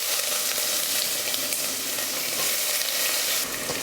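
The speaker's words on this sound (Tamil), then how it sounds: "எண்ணெய் காஞ்சதுமே 2 துண்டு பட்டை, 2 கிராம்பு, 2 ஏலக்காய், அப்புறம் வெங்காயம்" Cinnamon, cloves, cardamom and onion sizzle in hot oil for veg biryani, a steady, close, dense crackle and hiss that continues without a break and with no talk over it.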